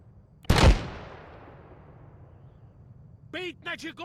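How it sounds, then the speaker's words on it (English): A single loud artillery round fired in Arma 3, a sharp boom with a long fading tail, followed shortly by a voice speaking over radio. "Rounds away."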